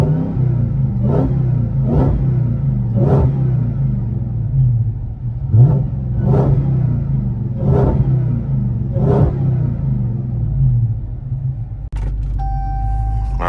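A Dodge Hellcat fitted with a cold air intake revs in loud, repeated bursts while driving, about eight sharp rises over a steady low engine rumble, close and alone.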